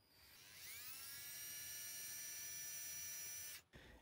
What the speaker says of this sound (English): First, I used a small drill bit to make a pilot hole.